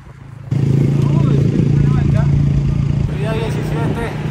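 A motorcycle arrives loud and close, its engine swelling suddenly into a strong steady drone that eases slightly toward the end, with people talking and calling out over it.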